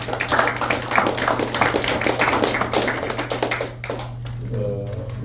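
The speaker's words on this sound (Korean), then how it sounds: "박수 한번 쳐주십시오" Applause from a forum audience at a Korean strategy lecture, with close, crisp individual claps over a steady hum, fading out near the end.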